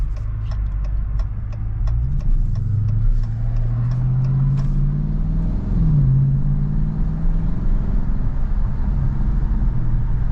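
A 2023 Dodge Challenger R/T Last Call Edition pulls away with a deep, loud engine rumble that rises and falls in pitch, heard from inside the car with some ticking early on.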